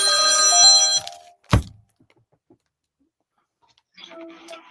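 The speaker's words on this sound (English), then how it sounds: "that's my bell" A bell rings in a home setting: a bright, ringing tone fades out, followed by a single sharp knock and later a faint, softer ringing tone.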